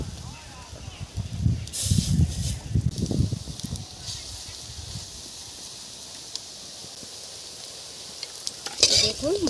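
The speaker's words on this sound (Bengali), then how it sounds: "এইভাবেই সব বড়াগুলো আমি ভেজে নেব।" Khesari lentil fritters fry in oil in a village-style Bengali kitchen, with a steady hiss and crackle of frying, bursts of stirring and scraping early on, and a sharp spatter near the end.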